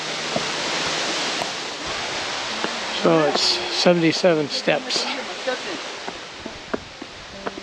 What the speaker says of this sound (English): There's a pretty waterfall. It's called Miners Fall.